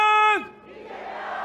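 A crowd at a political election rally yells in a long sustained shout that breaks off, then turns into a rising wash of cheering and clapping, distant and spread out, with no clear speech.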